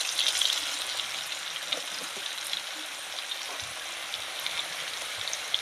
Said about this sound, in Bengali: লবণ হলুদটা দিয়ে ভালো করে ভেজে নেব